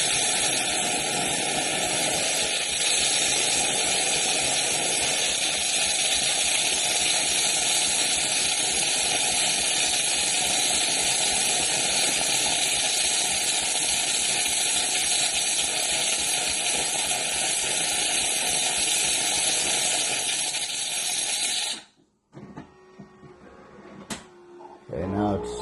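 An MCilpoog WS-203 automatic espresso machine runs steadily while making a cappuccino, a constant whirring and hissing drone for about twenty seconds that cuts off abruptly, leaving a few quieter clicks and drips.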